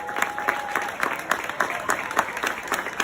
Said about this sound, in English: Let's give those folks a round of applause